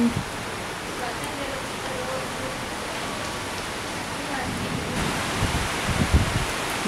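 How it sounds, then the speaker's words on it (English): Steady rain falls outdoors as a continuous broadband hiss, even and moderately loud throughout, with a few louder spatters near the end and no voices. "It's raining, guys."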